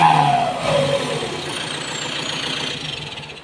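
A turbo-modified car engine, a street-style turbo housing setup, revs and then settles back toward a steady idle. The drone is loud and near, and its pitch sweeps down after the rev.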